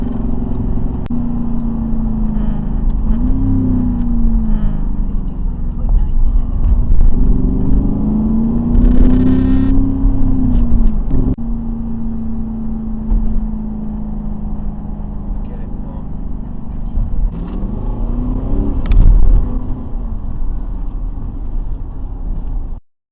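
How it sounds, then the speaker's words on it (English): A Lamborghini Urus SUV cruises on the road toward an Italian restaurant, its engine a steady low rumble with gentle rises and falls in pitch as it accelerates and eases off, heard from inside beneath steady road noise. "Okay, we're going to drive a Lamborghini in Strada."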